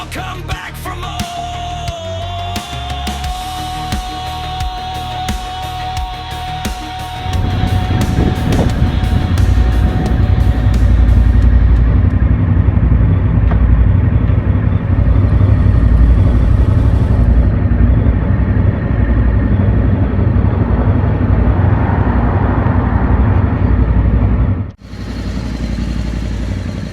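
A motorcycle is ridden home from the workshop after its snapped clutch cable was repaired. A brief musical passage gives way to a loud, steady engine roar close by that continues throughout, with a short dip in the noise near the end.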